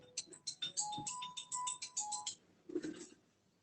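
A mobile phone ringtone sounds in a classroom, a quick repeating electronic melody of short beeping notes, fairly quiet, then breaking off into a brief murmur.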